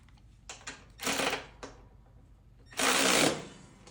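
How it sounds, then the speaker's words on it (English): Bolts being run down tight on a grass flap mounted against the side of a Hustler Surfer Pro mower deck, heard as several short bursts of ratcheting or driving with two longer sustained runs, fairly close and alone. "I'll go ahead and run these bolts down tight."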